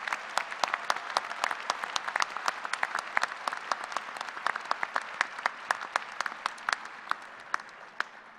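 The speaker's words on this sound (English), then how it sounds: "Please recognize these individuals with a round of applause." A crowd claps at a university engineering commencement ceremony, a sustained round of crisp, distinct hand claps at a fairly even density, with no talking.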